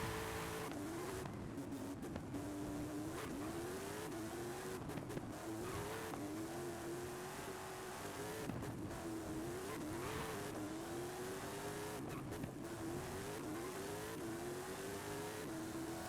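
Race car lapping a track in Forza Horizon 5, engine note rising and falling repeatedly through gear changes and corners, steady and fairly close with faint tyre noise.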